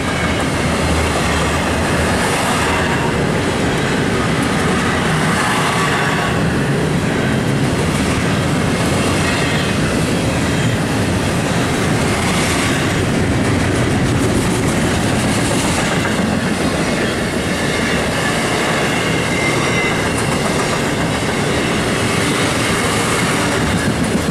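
A freight train from Los Angeles rumbles steadily past close by, a dense continuous roar of rolling wheels and rail noise with faint clatter throughout.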